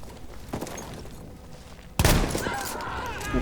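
Bursts of gunfire crackle in Battlefield 1, a short volley and then a louder, sustained barrage with a busy background.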